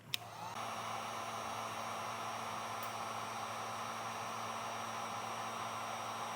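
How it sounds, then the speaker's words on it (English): A heat gun shrinking tubing over crimped trailer brake wiring, switched on with a click and then blowing a steady, loud hiss-like roar close by with no talk. "we'll take our heat gun and we'll just shrink this down"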